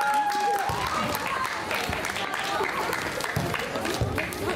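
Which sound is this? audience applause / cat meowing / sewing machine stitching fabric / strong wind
audience applause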